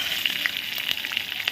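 Chopped onions hit hot oil with tempered whole spices, giving a steady close sizzle with scattered crisp pops and crackles throughout.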